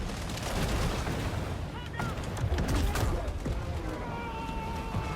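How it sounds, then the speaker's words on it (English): Gunfire in the video game Maneater, fired by a shark: a dense, noisy spread of rapid shots and impacts with splashes, steady and loud throughout, mixed with game sounds and a voice talking over it. "the shark keeps shooting at things I am definitely not aiming him at"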